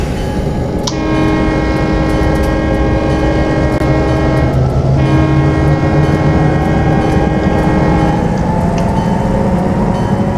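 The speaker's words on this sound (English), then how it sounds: "We now need to start ringing the bell so that people know that this train is that is ready for use." An EMD F7 diesel locomotive throbs loudly at close range, its deep engine rumble holding steady throughout, while sustained tonal horn-like notes sound in bursts above it and no one speaks.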